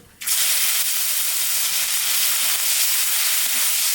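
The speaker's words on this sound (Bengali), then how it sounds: "রসুন ভাজা হয়ে গেছে" Garlic frying in oil with cumin and radhuni spices gives a loud, even sizzle that starts abruptly and continues unbroken throughout, close up and without speech.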